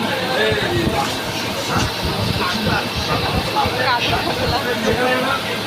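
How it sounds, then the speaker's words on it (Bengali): Steady broadband rumble and hiss of a moving passenger train heard from inside the carriage, continuous and fairly loud throughout, with people talking over it. "এখন আমরা ট্রেনে আছি।"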